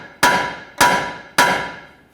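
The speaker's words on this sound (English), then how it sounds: "I'm going to go ahead and strike this with the hammer" Three loud, sharp hammer strikes at an even pace, each ringing briefly with a metallic tone, hitting the lower ball joint knuckle on a 2011-2015 Kia Sorento front suspension.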